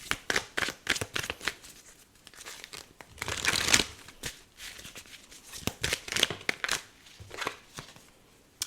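Tarot and oracle cards are shuffled by hand at close range in repeated quick bursts of riffling and papery flicking, separated by short pauses, with no talking.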